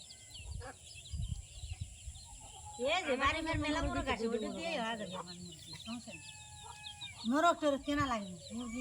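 A rooster clucks in a rural yard, its calls repeating in short bursts while people talk nearby.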